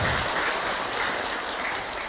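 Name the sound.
applause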